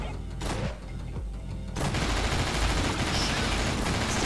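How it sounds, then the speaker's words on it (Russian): Sustained gunfire from the Nightmare House 2 first-person shooter game, a dense continuous burst that swells louder partway through and keeps rattling without pause, with a brief softer stretch before it. "Стреляю, стреляю."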